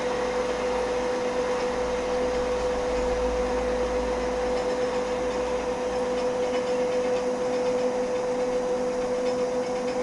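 An Emi Mec E Sprint lathe hums steadily while chamfering the edge of a nut, a constant machine drone with a sustained mid tone and no talk.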